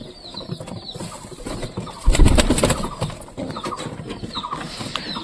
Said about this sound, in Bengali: সব কবুতরগুলো সর্ষে খাওয়ার জন্য নিচে নামে গেছে।